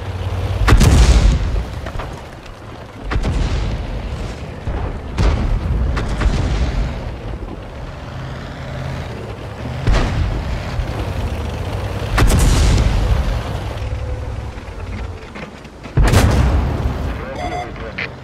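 Panzer III/IV tank cannon firing in a video game: a series of loud, heavy booms spaced a few seconds apart, each with a sharp onset and rumbling decay, over steady engine-like background noise.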